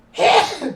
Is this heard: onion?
no